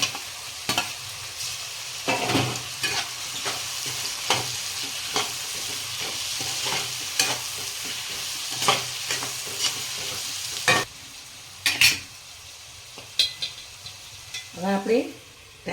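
Capsicum and mixed vegetables sautéing in a pan for vegetable pulao, a continuous loud sizzle broken by repeated spoon scrapes and clatters against the pan.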